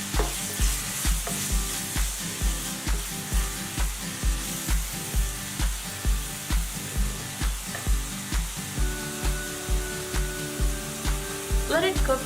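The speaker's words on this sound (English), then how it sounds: "give it a good saute" Vegetable kurma ingredients saute over high heat in a pan with a loud, constant sizzle and sputter, broken by a regular rhythm of stirring strokes roughly every half second throughout.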